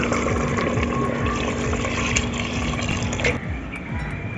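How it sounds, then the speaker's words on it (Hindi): Water poured into a pot of aloo gosht curry with browned potatoes, a steady continuous gushing and splashing that runs unbroken throughout and eases slightly near the end. "अब हम इसमें पानी ऐड कर देंगे।"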